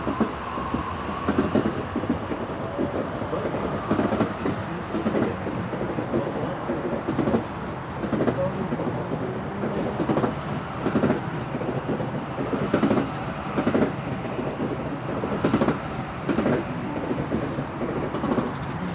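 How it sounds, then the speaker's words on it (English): A train rumbles past close by on the Sydney Harbour Bridge, wheels clacking rhythmically over the track joints in a steady repeating pattern that lasts throughout. "Train going back across the bridge."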